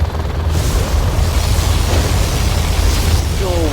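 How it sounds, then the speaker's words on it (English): Particle cannon blast from C&C Generals Zero Hour, a loud sustained roaring boom with heavy low rumble that fills the whole stretch, a brief electronic chirp near the end. "Particle cannon activated."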